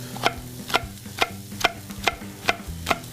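Snow peas and peppers stir-fried in oil in a pan, with a soft steady sizzle under regular sharp clacks of a utensil against the pan, roughly twice a second.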